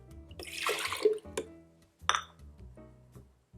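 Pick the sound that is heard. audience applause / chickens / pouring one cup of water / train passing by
pouring one cup of water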